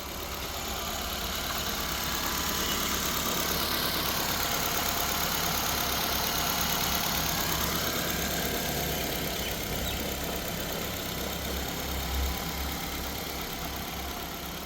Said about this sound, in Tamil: இப்போ நெக்ஸ்ட் நம்ம இந்த வண்டியோட இன்ஜினை ஸ்டார்ட் பண்ணிடலாம்.